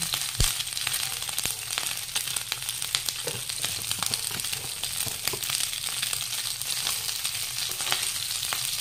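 Beef spleen adobo sizzles steadily with garlic in a hot pan, a constant close crackle of frying with a few sharp ticks and clinks scattered through it.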